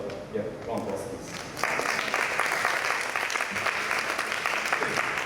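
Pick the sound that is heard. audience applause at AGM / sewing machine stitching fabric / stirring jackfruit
audience applause at AGM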